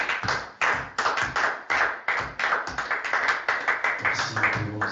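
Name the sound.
congregation clapping in acclamation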